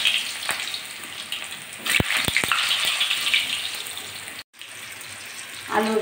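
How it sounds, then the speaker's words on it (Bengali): Large potato chunks fry in hot oil in a pan, giving a continuous loud sizzle with a few sharp clatters partway through, a brief dropout, then the sizzle resumes. "এই যে আলুগুলো বড় বড় করে কেটে নিয়েছি, আলুগুলো আগে ভেজে নিচ্ছি"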